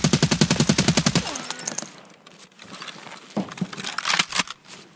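A black MDR rifle in Escape from Tarkov fires a rapid burst of about a dozen sharp, close shots, followed by scattered clinks and a few louder clattering impacts.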